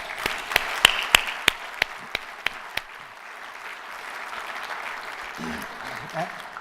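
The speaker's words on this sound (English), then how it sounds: "So please join me in giving Alan in absentia a big round of applause." Audience applause at an award dinner, beginning with a few sharp, close claps over a broad wash of clapping that thins to a softer murmur of applause and room noise.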